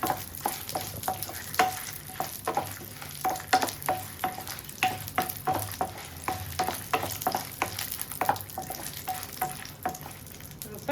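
Ingredients for a sorrel leaf pachadi fry golden and crackle in a pan while a utensil scrapes and taps repeatedly in a quick, uneven rhythm.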